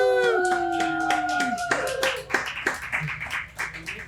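A live podcast audience in a brewery taproom claps and whoops, with high wavering cheers at first, then scattered sharp claps continuing close by.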